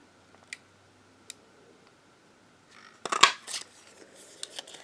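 Scissors cut paper for card making, a few sharp isolated snips early on and then a brief cluster of louder crisp cuts near the end, close and otherwise quiet.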